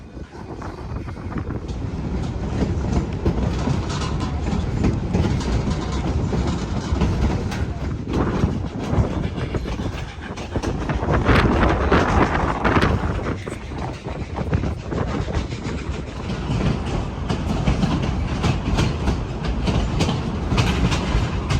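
The Cumbres & Toltec steam train runs west from Sublette, New Mexico, a loud continuous rumble of wheels on rails with rhythmic clatter and surges, close and steady throughout.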